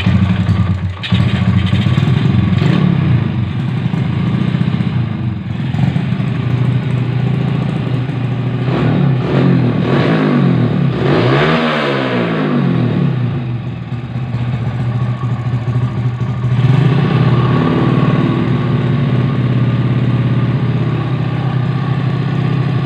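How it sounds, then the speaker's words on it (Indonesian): A worn racing motorcycle engine fires up and runs loud and close, rough idle broken by several rising revs and falling throttle blips across the whole stretch. "Coba kita nyalakan dulu mesinnya"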